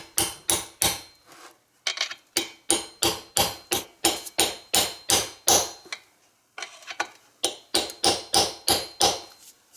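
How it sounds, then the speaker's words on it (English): A deep 5/8 socket taps a seal into a two-stroke leaf blower engine, giving quick, sharp metallic taps in steady bursts with a short pause between runs, close and clear with no speech. "I've got a deep 5/8 socket. It fits perfectly on the outer edge of the seal. And now start tapping it in"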